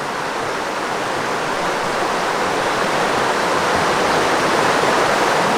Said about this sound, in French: le ruisseau de la Guennerie se jette dans l'Orne en aval du gué de Saint-Aubert